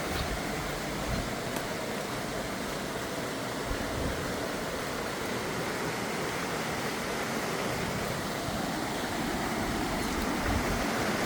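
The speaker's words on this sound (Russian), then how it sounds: "Вот водопад." A waterfall in a forested gorge along a misty trail near Alanya roars as a constant, even rush of water, close and loud, with no voices.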